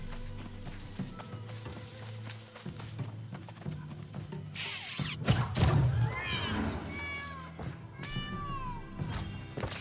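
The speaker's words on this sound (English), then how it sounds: "Why did he meow?" A cat meows in the game New World, several rising and falling calls over a game soundtrack and background noise, fairly close and clear in the second half.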